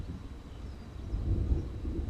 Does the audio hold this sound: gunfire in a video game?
no